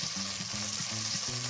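Ginger garlic chili paste sizzling with sautéed onions in a hot pan for Punjabi pakoda kadhi, a steady close frying hiss with soft stirring scrapes, no voices.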